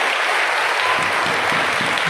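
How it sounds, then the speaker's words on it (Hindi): Audience applause at the Palm Sunday procession at the National Pilgrimage Shrine in Mariamabad, a steady dense wash of clapping sustained loudly for about two seconds with no voices over it. "जोरदार ताली के साथ उनका शुक्रिया अदा करें"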